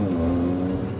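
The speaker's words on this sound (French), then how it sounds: "Ça fait vraiment un bruit de rallye." A Renault Clio engine drones loudly at steady revs, a throaty rally-like exhaust note held close up for a moment.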